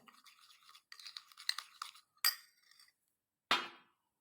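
Face wash and sugar being stirred together in a small bowl, giving gritty scraping strokes in short bursts, then two sharper clinks of a spoon against the bowl, separated by brief silences.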